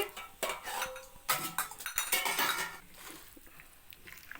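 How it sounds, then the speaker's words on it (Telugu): A metal utensil scrapes and clinks against a pan while chicken is mixed with coconut powder, ginger-garlic paste, salt, turmeric, chili and oil, giving irregular close clatters and scrapes, loud at first and quieter toward the end. "ఇప్పుడు ఇదంతా మొత్తం కలిపేస్తుంది అనమాట"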